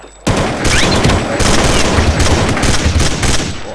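Gunfire erupts in the video game Counter-Strike: Condition Zero, with a dense burst of rapid loud shots that begins abruptly and keeps going, ending in a headshot kill.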